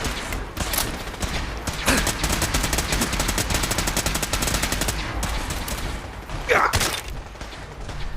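Automatic weapon fire in Fallout 4 rattles in long, rapid sustained bursts, loud and dense, with a brief gap before another burst near the end.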